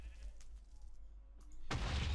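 A sheep bleats faintly in Minecraft over a low hum, followed after a short pause by a sudden loud booming burst near the end.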